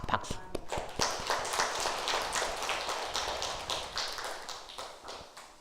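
A church congregation claps in a fast, steady run of sharp, close hand claps lasting several seconds, with a few scattered voices underneath.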